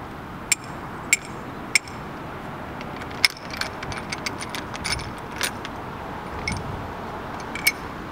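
Bicycle saddle bolts being loosened on a Cirrus Cycles Bodyfloat seatpost: sharp, close metallic clicks and ticks at irregular intervals, with soft rattling handling noise in between over a quiet background.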